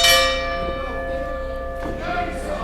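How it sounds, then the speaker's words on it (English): A bell sounds at a wrestling ring during a live UCW wrestling show. It is one metallic strike that rings on as the crowd murmurs, with a commentator talking over it. "And the bell has sounded."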